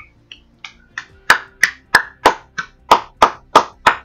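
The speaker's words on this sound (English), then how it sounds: "Give him a round of applause." A single pair of hands claps about a dozen sharp, evenly spaced times at close range, starting sparse and settling into a steady rhythm; no voices.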